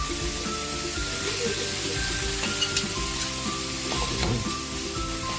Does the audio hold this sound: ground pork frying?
yes